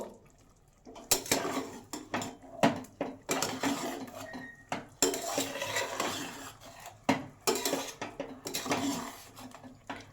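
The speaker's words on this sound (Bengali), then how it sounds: "ভালো করে আমরা নেড়ে নেব।" Coriander (dhaniya) chicken being stirred in a pan: close, repeated scraping and clattering strokes of a utensil against the pan, coming in irregular bursts with short pauses between.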